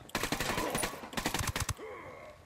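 Rapid bursts of gunfire in the Ghost Recon Wildlands video game crackle in two quick volleys of sharp shots, close and punchy, then fade into a quiet tail.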